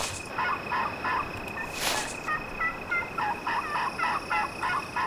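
A wild turkey gobbles in a rapid, rattling, repeated pattern across open country where many hens roam, moderately distant over a steady high insect-like drone.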